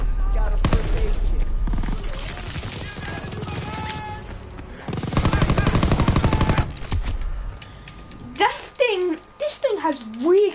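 A machine gun in a WW2 combat video game fires a long, loud, rapid automatic burst amid battle noise, followed by voices talking.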